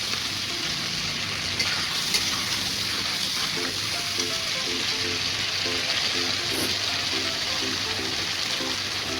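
Steady, loud sizzling as pastes of dried chili, ginger, onion and garlic with turmeric, salt and cumin fry in a pan for egg curry, a continuous close hiss with faint tonal sounds underneath.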